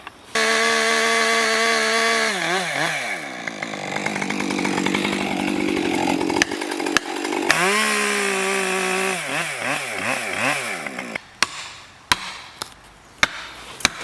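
Chainsaw cutting into a tree being felled near buildings, a loud close engine whine that rises and falls as the saw bogs and revs through the cut, then stops, followed by sharp clicks and knocks.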